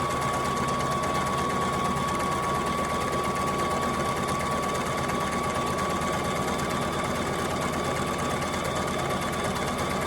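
A sewing machine back-stitching fabric for a reversible jar bonnet runs in a steady, close, continuous whir with a fine rapid needle patter, loud and alone throughout.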